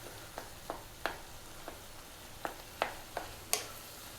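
Masala brain frying in a pan with a spoon cutting through it: quiet steady sizzle under a series of about nine soft, sharp scraping taps spaced unevenly, close and faint.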